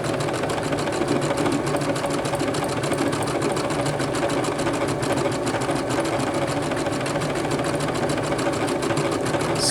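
A Brother PC 6000 sewing machine stitching through multiple layers of fabric, a loud, fast and even mechanical whir with a steady rapid needle beat that runs without a break, close up and with no talking.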